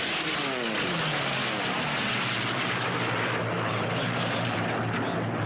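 Dreadnought, an unlimited-class racing plane, roars past at an air race in Reno, a loud continuous engine blare with a falling Doppler sweep as it passes close, then a steady heavy drone.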